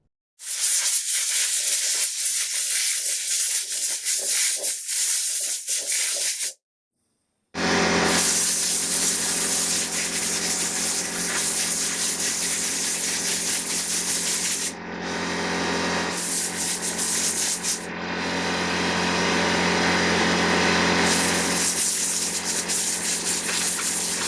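Compressed air blasts water off cleaned engine valve springs from a 2008 Acura MDX cylinder head, a loud continuous hissing rush in long bursts with one brief silent gap and short dips as the nozzle is shifted.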